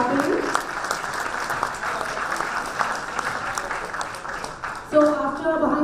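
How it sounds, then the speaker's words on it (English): An audience applauds an award recipient at a pharma awards ceremony, steady dense clapping throughout with voices mixed in, and a louder burst near the end as a voice cuts in. "Ladies and gentlemen, you cannot stop clapping."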